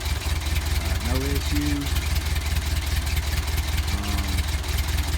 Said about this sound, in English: It's just a good old running tractor.